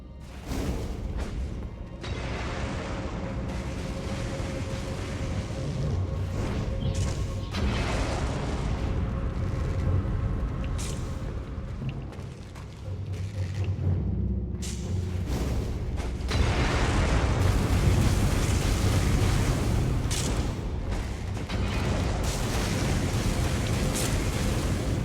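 Fire volcano pods set off in a modded playthrough of the video game Elden Ring, inside a crypt: a long, steady barrage of deep booms and blasts rumbles on without pause, swelling louder in the later half.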